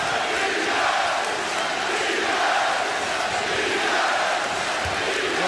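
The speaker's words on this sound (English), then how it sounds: "But do you hear this crowd?" A packed basketball arena crowd at Madison Square Garden during an NBA playoff game roars steadily, a dense, loud wall of voices and cheering that holds without pause.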